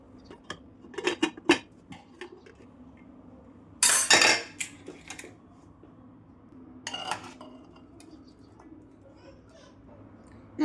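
Boiled green chickpeas are scooped out of a pressure cooker in a home kitchen, giving scattered sharp clinks of a metal spoon against steel pots, with one louder rattling scrape midway and quiet background murmur.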